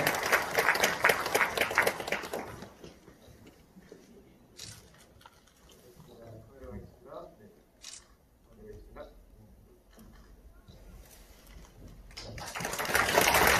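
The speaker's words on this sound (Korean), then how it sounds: "학생 여러분, 청장님께 다시 한번 감사의 박수를 보내주시기 바랍니다." Students clap in a university auditorium in Gumi during a thank-you for a former agency head, the applause heavy at the start, dropping away under quiet talk, then swelling again at the end.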